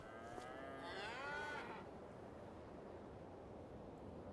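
A single cow moos at a farm in Farming Simulator 25, a clear drawn-out low call lasting about a second, set against a steady windy ambient background.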